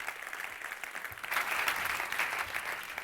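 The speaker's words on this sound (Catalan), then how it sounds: "un fort aplaudiment." An audience at an evening awards event in Montserrat breaks into applause, steady clapping that swells after the first second and holds for a few seconds.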